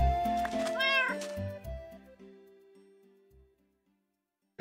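A cat meows close by in a long drawn-out call with a rising and falling pitch, then quieter trailing mews that fade to silence.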